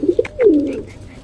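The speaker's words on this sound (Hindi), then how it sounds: "कुछ कबूतर अभी ज़्यादा आए हैं यहाँ पे छत पे खाने के लिए" Pigeons feeding on grain on a rooftop coo nearby, a couple of short soft notes followed by a longer, louder rolling coo, then quiet.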